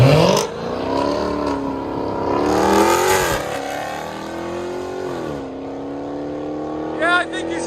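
A 2018 Dodge Challenger Hellcat with a 6.2L supercharged Hemi V8 and aftermarket exhaust pulls away gently. Its loud, close engine note climbs in smooth rising sweeps, then settles to a lower drone, with brief talk nearby.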